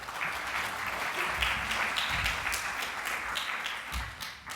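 An audience at a talk on infection prevention in children applauds steadily to welcome a speaker to the stage, a dense, sustained clapping that fades slightly at the end.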